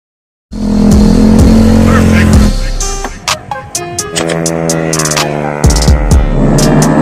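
A CVT scooter fitted with a Bobokan Hiung MP7 regulation exhaust muffler is started and held at a loud, throbbing idle, then given a series of sharp throttle blips and revs, close up.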